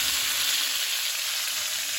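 Brinjal pieces fry in hot oil for Hyderabadi bagara baingan, giving a steady, close, dense sizzle that hisses evenly throughout with no voices.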